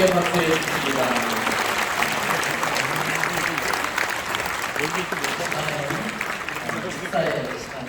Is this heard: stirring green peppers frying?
no